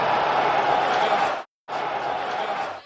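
A large NFL Draft crowd at the 2009 draft reacts to the Oakland Raiders taking Maryland wide receiver Darius Heyward-Bey with the seventh pick, a dense murmur of voices and jeers. It cuts out briefly midway, then resumes at the same level.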